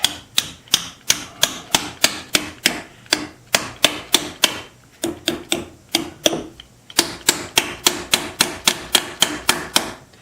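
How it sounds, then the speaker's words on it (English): A small hammer strikes a hickory wood wedge into a sawn crack in a log, giving sharp, evenly spaced blows close by in rapid steady series with brief pauses. "this little hammer isn't going to be stout enough to do that because it's been broken before"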